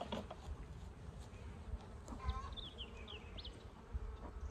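Honey bees buzzing around an open hive while smoke is used to calm them, a steady low droning hum with a few faint higher tones over it, fairly quiet, no speech.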